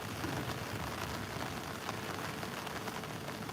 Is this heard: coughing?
no